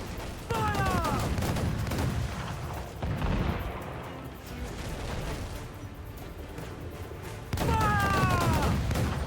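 Ship cannons fire in a naval battle in Assassin's Creed IV: Black Flag, a ragged volley of heavy booms that rumbles on and then breaks into a fresh loud burst near the end, with a voice calling out over the barrage.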